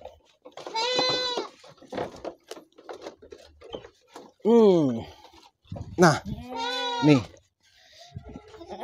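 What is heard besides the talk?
goats bleating on a farm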